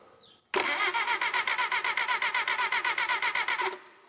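A Bobcat skid steer's starter cranks the engine with the key, a steady fast rhythmic churning lasting about three seconds before it stops, loud and close with no voices.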